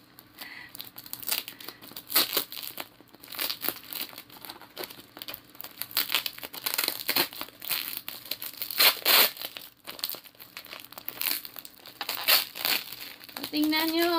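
Packing tape on a gift box is torn and crumpled in irregular bursts of crinkling and ripping at close range, with people talking intermittently over it.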